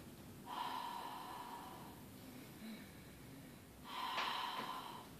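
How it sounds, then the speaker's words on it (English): Two deep, audible breaths are drawn through the nose during a hip and outer-thigh stretch, each a rushing inhale close to the mic with a quiet pause between. "breathe it in."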